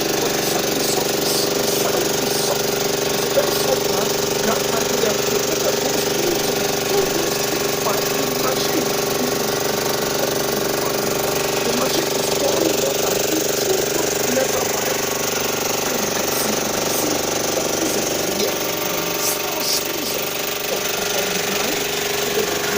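Continuous heavy mechanical drilling from a borehole drilling rig with a loud engine drone and rapid rattling impacts, steady throughout with no pauses.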